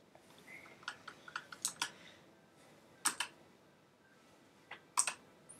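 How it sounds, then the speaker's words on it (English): Computer keyboard typing during a Minecraft session, in short irregular bursts of light clicking keystrokes with pauses, fairly close and moderately quiet, with no talk over it. "She's typing now."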